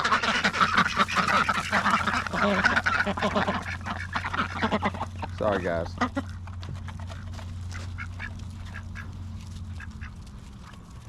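Ducks at a farm pond quacking in a busy, overlapping chorus that fades to a few scattered calls, with a person talking briefly nearby.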